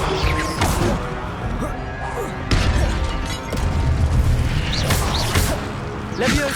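Hogwarts Legacy spellcasting with the Incendio fire spell: repeated whooshing bursts, fiery crackles and impact crashes layered over game sounds, with a few sharp hits spread across the moment and a voice calling out spells.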